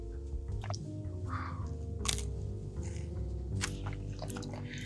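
Close chewing on a hard, chewy Dunkin' bagel, with faint irregular crunches and moist squishes over a low background hum.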